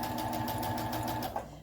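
Sewing machine back stitching a fabric mask, a steady close rapid needle clatter running for over a second before stopping abruptly.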